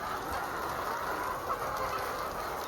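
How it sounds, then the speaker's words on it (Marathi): A crowd of chickens clucks at a poultry farm, a dense, continuous chorus of overlapping calls with no pauses, steady and fairly close throughout. "बघा किती कोंबड्या आहे, सगळ्यांचा आवाज येतो"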